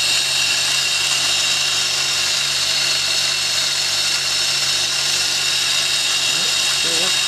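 The power fine feed on a G0704 milling machine quill with a V-belt drive runs as a steady, loud mechanical whine and hum that holds unchanged from start to finish.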